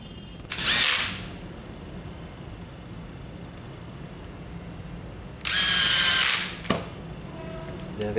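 Cordless battery screwdriver on its lightest torque setting driving a screw during a Roland XP-80 snare repair, two short buzzing whirs about five seconds apart, close and fairly loud over a quiet room.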